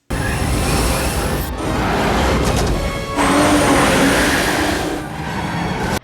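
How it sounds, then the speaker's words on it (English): Batmobile from Batman Forever driving, a loud continuous engine roar and road rush throughout with a brief dip midway, heard alone without talk. "And that flashy car, I heard it can drive up walls."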